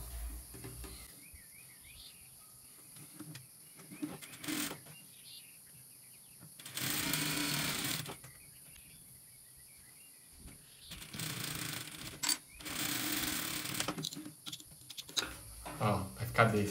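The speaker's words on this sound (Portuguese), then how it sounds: "A gente passa aqui uma costura." A sewing machine runs in a few short stretches while stitching a seam on a Christmas quilt block, its steady whirring mixed with quiet talk in Portuguese between the runs.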